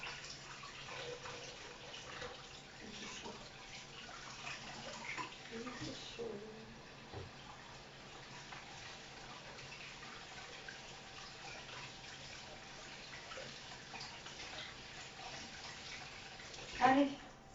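Very hot water runs steadily from a kitchen tap, a continuous soft gushing hiss lasting throughout, with a person talking faintly over it and a brief louder clatter near the end.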